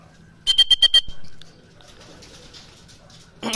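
Racing pigeon back at the loft after a 94 km training flight, with a burst of five quick, close flaps or coos near the start, then a quieter rustling and a brief sound at the end.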